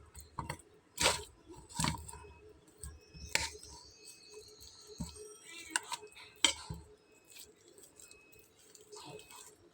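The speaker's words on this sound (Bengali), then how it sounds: "এখন আমি এখানে কিছু আলু সিদ্ধ করে নিয়েছি, এটাকে ম্যাশ করে নেব। তো একটা চামচ দিয়ে করব।" Boiled potatoes are mashed with a spoon in a bowl. Scattered, close clinks and scrapes of the spoon against the dish come at an irregular rhythm, with soft squishing between them.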